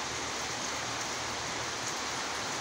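Steady rain falls on a Turkish village, an even, continuous hiss of drops close by with no voices.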